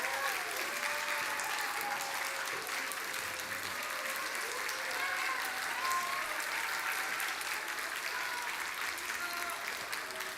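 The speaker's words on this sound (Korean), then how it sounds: "박수가 끊이질 않네요." Sustained applause from a church congregation at a Sunday worship service, steady and fairly even throughout with no clear breaks, heard from within the room.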